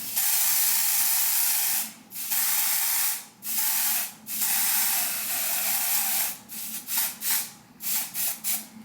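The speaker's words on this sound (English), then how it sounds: "I'm going to add a little bit of lace tint to the lace to make it a little darker" Lace tint spray hisses onto a glueless straight wig's lace in a series of bursts, long sustained sprays at first, then shorter quick puffs, close and fairly loud with brief pauses between.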